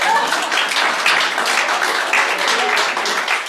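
Scattered clapping from an audience gathered at a fellowship service, steady and moderately loud throughout with no voices over it.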